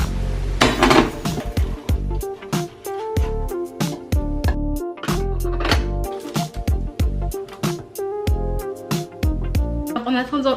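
Pots, dishes and cutlery clink and clatter repeatedly in a kitchen while hard-boiled eggs are being prepared, sharp metallic and ceramic knocks in an uneven rhythm, close and fairly loud, with faint background sound.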